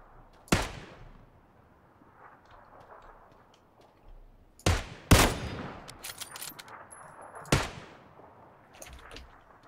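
Gunfire in PlayerUnknown's Battlegrounds: four sharp, separate shots crack out at irregular intervals, one near the start and three later. A couple sound close and loud, over quiet game ambience with faint clicks between.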